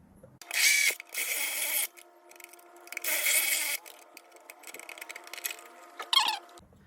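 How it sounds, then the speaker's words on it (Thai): A drill bores a hole for the receiver wire of a fan remote-control panel, heard as two long, loud grinding bursts with fainter scraping and handling noises between them. "ส่วนสายรับสัญญาณผมจะเจาะป็นลมแล้วก็ให้มันโผล่ไปข้างนอกนะครับ"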